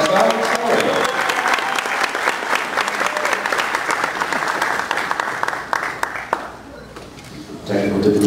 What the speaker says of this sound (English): Round of applause, Roxana.